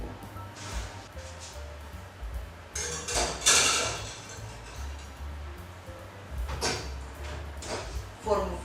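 A metal tray of cauliflower is slid into an oven, with clanks and scraping of metal, a door knock or thud, and kitchen handling noises under a voice talking.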